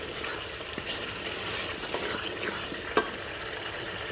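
Beef kofta curry gravy masala is stirred and fried in a pan, giving a soft, steady sizzle with light scraping strokes and one sharper clink, close by and with no talking.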